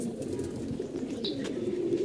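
Racing pigeons, including a silver pigeon, coo softly in a loft, a low steady throaty cooing that runs close and continuous through the moment.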